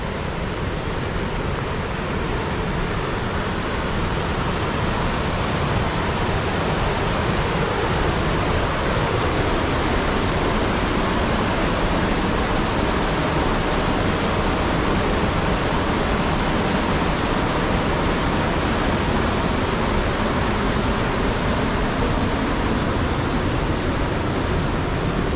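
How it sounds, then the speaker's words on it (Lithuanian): Water spills from a small lake at the Ginučiai watermill and falls before a bridge, a loud, constant broadband rush and roar heard up close without interruption. "čia iš ežeriuko bėga vanduo, krenta iš čia prieš tiltą"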